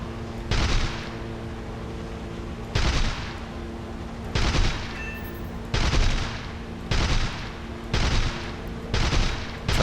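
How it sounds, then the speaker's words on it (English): Machine gun fire in the War Thunder combat flight game, near a Bf 110 C-4. About seven short rattling bursts recur at a fairly even pace over a constant engine drone. "He's firing his pesky little machine gun on the back at me."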